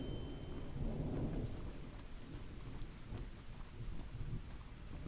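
Steady heavy rain pours throughout a thunderstorm in the horror video game Ritz The Rake, with low rolling thunder rumbling underneath, loud and continuous with no one talking.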